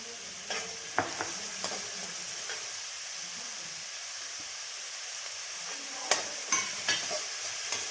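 Chopped large onions with salt sauté in a pan, a soft steady sizzle broken by sharp scrapes and taps of a stirring spoon, louder clusters near the start and end, no voices.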